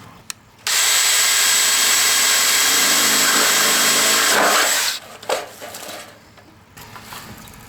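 A power drill whines loudly for about four seconds, pre-drilling into metal roofing, then stops, followed by a few scraping and rattling handling sounds.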